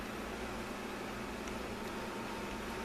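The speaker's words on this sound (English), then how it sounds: "excuse the noise, I have my fan going" An electric fan running in a home kitchen gives off a steady, even broadband whoosh, constant and unbroken throughout, with no talking over it.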